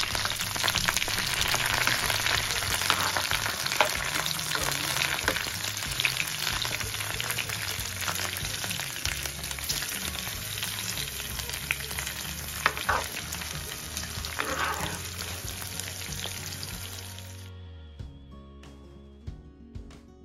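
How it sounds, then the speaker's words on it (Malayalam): Curry leaves, garlic and green chilli sauté in coconut oil with a bright, continuous crackling sizzle and scraping stirs, fading away abruptly near the end. "അതിലേക്ക് ഞാൻ കുറച്ച് കറിവേപ്പിലയും വെളുത്തുള്ളി പച്ചമുളകും കൂടി ഒന്നിട്ട്"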